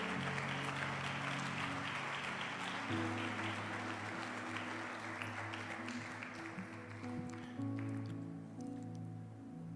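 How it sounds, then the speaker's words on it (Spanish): Church congregation applauding loudly as an offering of praise, dense steady clapping throughout while sustained organ or keyboard chords play underneath. "Dele una ofrenda de palmas muy fuerte a nuestro Dios"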